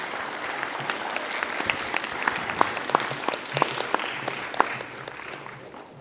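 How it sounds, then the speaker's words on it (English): A school audience at a primary mental maths competition claps enthusiastically, a lively burst of many hands with individual sharp claps standing out, fairly close and steady before fading toward the end, with no talking. "Let's give her a round of applause."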